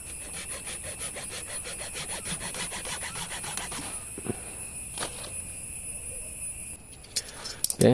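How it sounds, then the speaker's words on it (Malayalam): A blade cuts through a fairly thick mango tree branch for grafting, giving a steady rhythmic rasping scrape for several seconds that then slows and stops, with a few sharp clicks and handling noises near the end. "നമ്മൾ ബ്ലേഡ് ഉപയോഗിച്ചിട്ടാണ് കട്ട് ചെയ്യുന്നത്"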